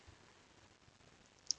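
A single faint, sharp mouse click sounds near the end of an otherwise quiet moment at a computer.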